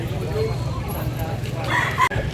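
A rooster for sale in Consolacion, Cebu crows loudly at close range, its call running for a couple of seconds and ending in a sharp break, with some voice activity mixed in.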